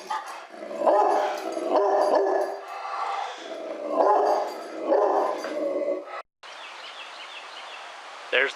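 Several dogs bark in loud, close bursts, with a steady run of overlapping barks and yips before the sound cuts off abruptly and gives way to a quieter, different background.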